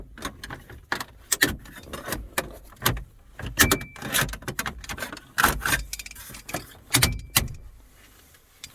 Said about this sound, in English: first you want to pop out this plastic trim piece right here.